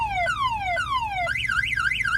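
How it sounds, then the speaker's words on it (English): A semi truck's vehicle alarm blares close and loud, cycling through falling electronic sweeps before switching to a fast warbling tone, with no voices. "Your alarm is sounding on your vehicle."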